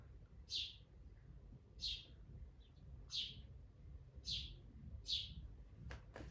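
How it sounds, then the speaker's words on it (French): Two small birds indoors in a living room give five short, high, bright chirps spaced about a second apart, faint over a quiet low hum, with no voices. "J'ai deux petits oiseaux à l'intérieur de mon salon."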